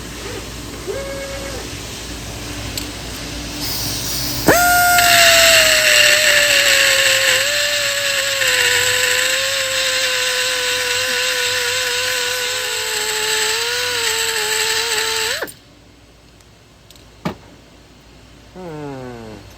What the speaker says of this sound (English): let's grind it a little bit more